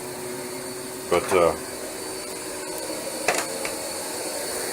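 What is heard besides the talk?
vacuum cleaner running on carpet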